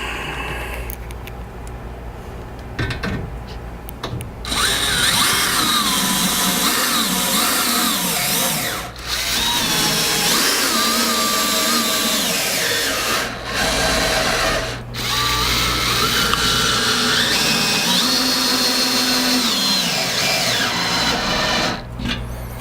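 A power drill drives screws into a train display shelf, whining loudly in several long runs broken by short pauses, with some quieter handling noise at the start.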